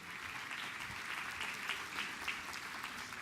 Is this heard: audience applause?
yes